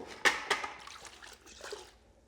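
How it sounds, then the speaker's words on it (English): Car wash media being rinsed in a water bucket during a rinseless wash, with two quick close splashes followed by softer sloshing and trickling. "come back here to the bucket to rinse everything off"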